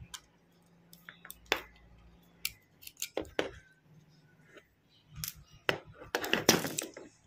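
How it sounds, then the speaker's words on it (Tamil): Scissors snip through speaker wire in a series of sharp, crisp clicks and small snaps, irregularly spaced and close up, with soft handling thuds between cuts in a quiet room. "இப்போ நம்ம இந்த 2 ஒயரில் ஒரு ஒயரை கட் பண்ணோம்ல"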